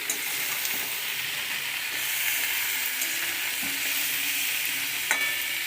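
Eggplant, potato, papaya, cauliflower and radish fry in a pan over a gas flame, giving a steady, dense sizzle with crackling hiss that runs unbroken and fairly close throughout, with no voices.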